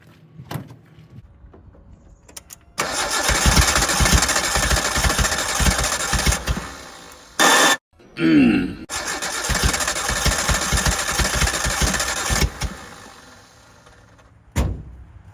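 A 1988 Suzuki Samurai engine cranks and sputters, trying to catch with gas applied, in loud, close, sustained bursts broken by a short pause and a couple of brief clunks.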